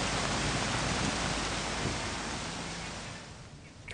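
Dense, steady rush of heavy monsoon rain pouring down in Mumbai, filling the whole soundscape and easing slightly toward the end.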